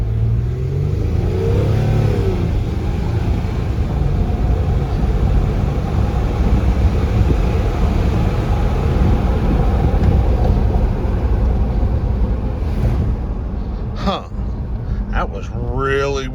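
A 2008 Lexus RX350 at full throttle roars loudly and continuously, the engine note climbing and dropping as the transmission upshifts early, with a voice briefly audible near the end.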